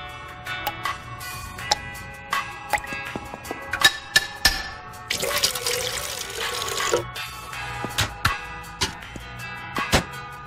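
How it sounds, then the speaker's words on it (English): Automatic drip coffee maker brewing in a home kitchen, with water gurgling and trickling, a burst of louder hissing flow in the middle, and scattered ticks and clinks around it. "Is that the automatic drip?"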